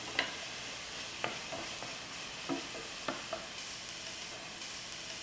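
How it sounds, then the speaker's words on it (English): Onion and garlic sauté quietly in a pan for a simple Italian dish, a faint sizzle with several soft stirring knocks and scrapes spaced through it, no talking. "Onion and garlic, we're only going to cook them until the onions start to get translucent."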